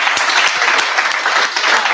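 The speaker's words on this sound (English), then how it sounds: "let's give a round of applause for" Audience applause fills a room at a fireside chat event, a dense, steady wash of many hands clapping at full volume for the whole stretch.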